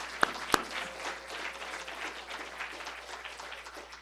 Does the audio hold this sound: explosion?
no